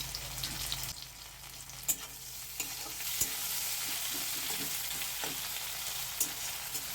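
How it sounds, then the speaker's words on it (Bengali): Onion and garlic paste fry in a pan with a steady, close hiss of sizzling oil, broken by occasional scrapes and taps of a stirring spoon. "পেঁয়াজটা আমার ভাজা হয়ে গেছে হালকা ভাজা হয়ে গেছে তার সঙ্গে রসুনটাও একটু ভাজা হয়ে গেছে"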